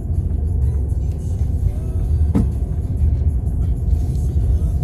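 A small car drives along, with a steady low engine and road rumble heard from inside the cabin, close and fairly loud, plus one brief sharper whoosh midway and no talking.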